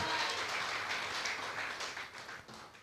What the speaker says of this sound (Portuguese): uma salva de palmas ao Senhor, por esse mover em nosso meio